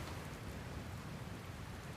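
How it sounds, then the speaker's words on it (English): Rain in the video game Dragon Quest Builders 2 falls as a soft, steady hiss, faint and even throughout, with no voices. "Where did this rain come from?"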